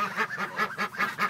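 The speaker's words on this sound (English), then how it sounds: "The duck is half black." Farm ducks give a rapid series of about six nasal honking quacks in an even rhythm, close and clear with no talking.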